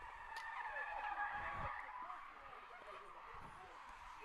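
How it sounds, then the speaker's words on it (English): Car tires screech faintly in the distance through a few hard turns, a thin squeal heard under a voice commentating on a baseball game. "As we have some screeching in the background, car making some hard turns."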